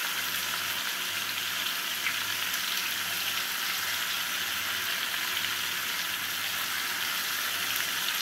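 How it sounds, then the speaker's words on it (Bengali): Mixed vegetables for a drumstick and lentil-dumpling curry sizzle steadily in a hot pan, an even, unbroken frying hiss that holds at the same level from start to finish with no talk. "সবজিগুলোকে হালকা করে ভেজে নিয়েছি"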